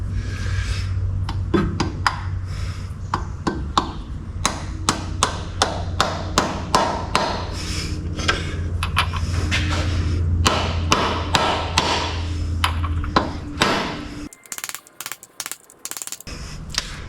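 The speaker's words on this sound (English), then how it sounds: "I'll just get it started with the soft hammer." A soft hammer taps a socket to drive a bearing in during a Mitsubishi Triton clutch replacement: a long run of sharp, evenly spaced strikes, close and loud, over a steady hum, ending in a few sparse taps.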